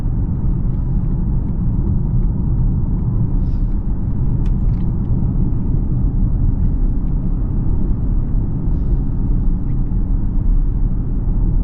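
A 2026 Lincoln Corsair Hybrid SUV with 266 horsepower accelerates, heard from inside as a loud, steady low engine and road rumble that stays constant throughout with no voices.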